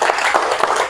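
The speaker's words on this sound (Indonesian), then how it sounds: "tepuk tangan untuk Mario" Classroom of pupils applauding for Mario, a short burst of dense clapping from many hands, fairly close and loud, lasting under a second.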